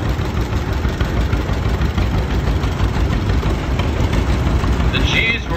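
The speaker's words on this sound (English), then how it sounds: "And following that, a 1950 G John Deere owned by Lauren Wimbles of Blinden." A 1950 John Deere G gas tractor engine idling, a steady low, loud throb with a knocking pulse that runs continuously through the whole stretch.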